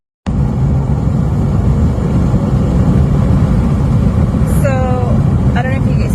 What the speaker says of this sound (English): I think in general I'm able to hear like the intakes a little bit better.